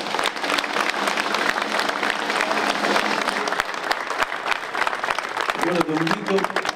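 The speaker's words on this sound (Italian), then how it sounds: "Un applauso." Audience applause on the final episode of a television variety show, a dense and loud burst of clapping from a crowd, with a voice starting to speak beneath it near the end.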